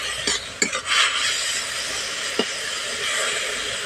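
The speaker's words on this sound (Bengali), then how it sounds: "তো নাড়াচাড়া করতে করতে জলটা অনেকটা শুকনো হয়ে গেছে।" Red amaranth greens stirred in a pan as the liquid cooks off, a steady close hiss of frying broken by a few sharp spatula knocks and scrapes.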